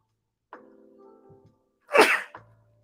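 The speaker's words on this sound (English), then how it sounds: "Oh, I gotta sneeze." A sneeze bursts out loudly and close by, preceded by a faint breathy voiced intake and followed by a short exhale, during a live bourbon tasting session.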